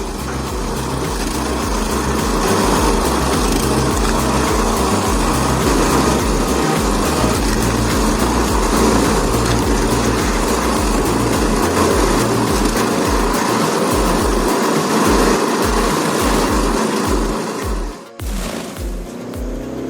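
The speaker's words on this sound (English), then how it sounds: "Feeding a 21-inch chipper pure eucalyptus." A 21-inch wood chipper grinds pure eucalyptus hardwood, a loud, steady mechanical roar with engine drone and shifting grinding texture, easing off briefly near the end.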